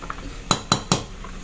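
A pot lid clinks down onto a boiling pot of sweetened saba bananas in three quick metallic taps, close and crisp, against a quiet kitchen background.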